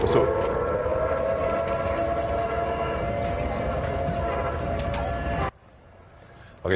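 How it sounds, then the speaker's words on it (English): A loud, steady wailing tsunami warning civil defense siren with a slowly shifting pitch that cuts off abruptly near the end, leaving quiet background. "These are the sirens that went off earlier."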